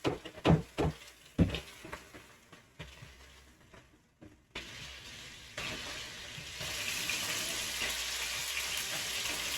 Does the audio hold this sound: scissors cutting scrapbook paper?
no